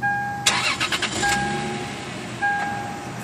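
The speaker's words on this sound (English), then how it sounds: "The first thing I want to do is demonstrate the car when it starts." A Lexus IS300 with a check engine light on cranks briefly and starts, then settles into a steady close idle, with a high warning chime beeping on and off throughout.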